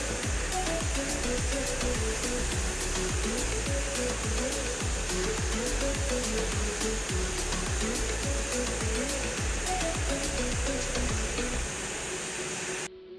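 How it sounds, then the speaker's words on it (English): VMECA Magic Ripper vacuum machine handling packaged food, a steady loud rushing suction hiss with a rapid repeated rhythmic thumping of items being picked and placed, running continuously before cutting off at the end. "the VMECA Magic Ripper, which works like a vacuum that suctions the food and puts it where it's supposed to go"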